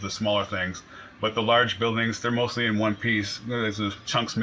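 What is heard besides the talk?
No distinct noise like a dog, phone or traffic.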